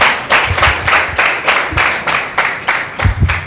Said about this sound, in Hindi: एक जोरदार ताली देते हैं परमेश्वर के नाम की महिमा के लिए